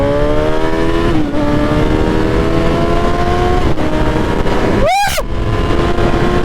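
A motor vehicle on a cold ride accelerating hard, a loud steady engine drone with pitch rising through gear changes, plus a sudden brief sweeping whine near the end.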